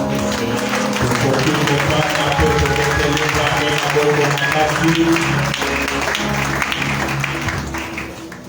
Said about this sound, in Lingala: Nous pouvons nous asseoir et nous acclamons très fort.